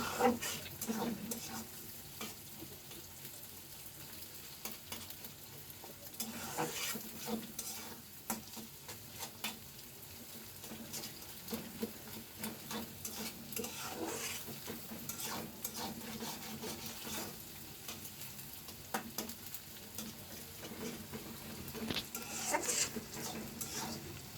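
Noodles with egg are stir-fried in a pan, a steady soft sizzle under repeated scraping and clinking of a utensil against metal, close but quiet, continuing for a long stretch without talk.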